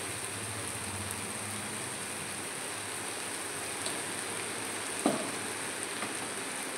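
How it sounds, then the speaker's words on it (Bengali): Ghee sizzles quietly in a pan while a dhaba-style egg curry cooks, a steady soft crackle with one small clink partway through and no voices. "একটু আবার ঘি দিয়ে দেবো।"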